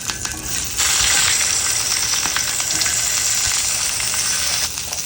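Tomato, onion, garlic and green chili fry in hot mustard oil, bursting into a loud, close, hissing sizzle that holds steady for several seconds and then eases off. No one speaks.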